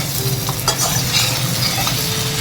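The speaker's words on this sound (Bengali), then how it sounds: "ভেজে রাখা মাংসটা মাংসটা দিয়ে এটা আবারও খুব ভালো করে ভেজে নিতে হবে" Mutton pieces fry with onions and spices in a pan, giving a loud, steady sizzle with stirring scrapes throughout and no voices.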